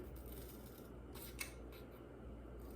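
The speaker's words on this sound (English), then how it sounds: "you're going to go ahead and just cut them" Scissors cut along drawn pencil lines on paper for a unicorn weaving craft, giving a few soft, close snips and blade scrapes over a steady room hum.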